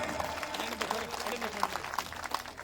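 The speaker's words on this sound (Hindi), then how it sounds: "मदन सिंह जी के लिए जोरदार तालियां बजाएं" A crowd at a political rally breaks into applause, a dense patter of many hands clapping at moderate loudness, mixed with crowd murmur and some voices throughout.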